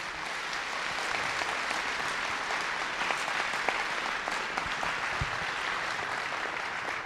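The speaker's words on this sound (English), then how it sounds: "Give both of them a round of applause, would you?" A church audience at a creation debate at Heritage Baptist Temple gives dense, sustained applause, an even wash of many hands clapping together at moderate volume throughout.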